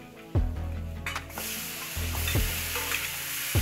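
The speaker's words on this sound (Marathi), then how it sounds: "फोडणी झाल्यानंतर हे असे खेकडे पहिल्यांदा टाकून घेतले जातात." Crabs dropped into hot oil tempered with turmeric, salt and spices, a loud close sizzle and bubbling broken by a few sharp clacks of a utensil against the pan, with no talking.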